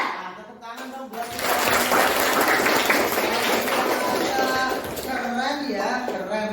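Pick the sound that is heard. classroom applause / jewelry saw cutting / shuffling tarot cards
classroom applause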